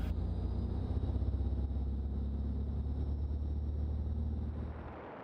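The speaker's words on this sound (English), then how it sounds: "I did leave the wind noise going in the background" Steady broadband rush of wind in the cockpit of a small plane, a Bonanza or Cessna 172, flying slowly near about 45 knots, with an engine drone underneath; constant and loud, easing slightly at the end, no talk.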